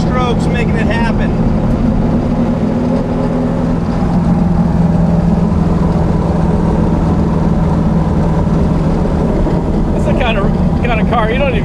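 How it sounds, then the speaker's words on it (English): A four-stroke car engine runs steadily on a drive through canyons, a loud continuous drone from inside the car with people talking over it. "just listen to the music of an engine, just listen to those 4 strokes making it happen"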